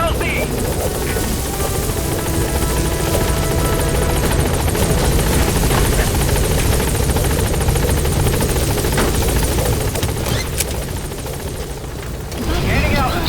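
Helicopter arriving at a landing zone in Metal Gear Solid 5, a loud, continuous rotor drone and engine whine throughout, with a voice talking over it.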